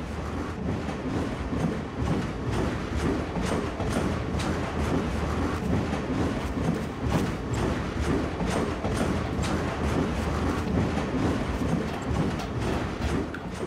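Train in a video game with bullet-resistant windows, running with a constant heavy rumble and rapid, regular clacking thumps across the whole stretch, loud and close, with no voices.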